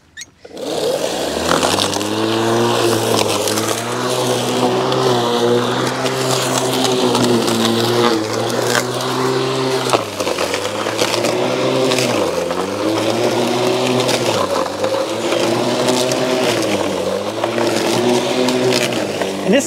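A Litheli U20 battery-powered lawn mower cuts grass at its lowest setting beneath a trampoline, a loud steady electric motor whine that dips and recovers repeatedly as it pushes into the grass.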